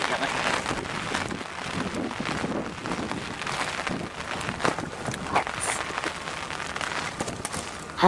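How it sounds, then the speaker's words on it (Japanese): Heavy rain and strong wind lash an umbrella near Umi-Shibaura station, with a steady broadband roar of downpour and gusts buffeting the microphone throughout. "にしても、ほんと雨風が強いですね。"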